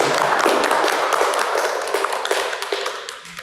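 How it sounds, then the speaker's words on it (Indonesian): A class applauding after a group discussion presentation on freshwater fish parasites, many hands clapping in a dense, sharp patter that thins out and fades toward the end, near and fairly loud with no talk. "Baik, tepuk tangan."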